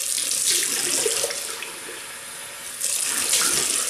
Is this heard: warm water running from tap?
yes